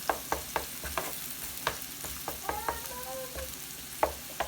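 Steak for Philly cheesesteak frying in a greaseless pan, a steady close sizzle broken by repeated sharp scraping and stirring clacks of a utensil, with a brief faint whistle-like tone midway.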